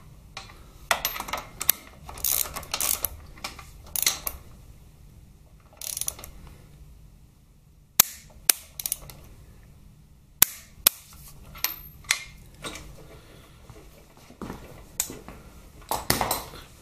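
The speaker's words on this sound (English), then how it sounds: "I'll adjust the torque wrench back up to 61 newton meters." Torque wrench and socket at work on engine bolts during a Harley-Davidson Twin Cam 88 rebuild: scattered close mechanical clicks and ratcheting bursts, with several sharp isolated snaps and quiet gaps between, no talking.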